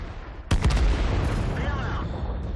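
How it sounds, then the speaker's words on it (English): Artillery shell striking a tank in World of Tanks, a sudden loud close impact boom followed by a rumbling, ringing decay. "the artillery did get me"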